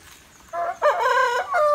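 A rooster crows loudly and close by on a Brazilian smallholding farm, a drawn-out cock-a-doodle-doo with hen clucks around it over quiet background.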